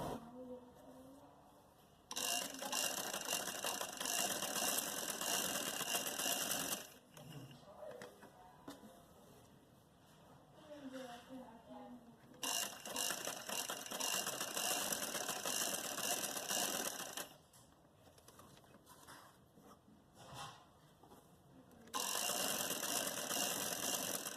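A sewing machine stitches along the buckram of a neck design in several bursts of fast mechanical whirring, stopping and starting, with quiet pauses and handling noises between the runs.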